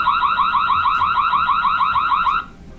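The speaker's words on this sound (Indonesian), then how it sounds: "jadi CCTV akan membunyikan alarm ketika mendeteksi ada pergerakan seseorang" Indoor WiFi CCTV camera's motion-detection alarm sounding, a loud warbling electronic siren that repeats in quick pulses for over two seconds and then cuts off abruptly.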